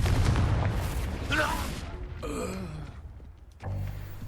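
A Confringo blasting spell goes off in Hogwarts Legacy, a whooshing cast followed by a booming burst, then further rumbling effects and a second thump near the end.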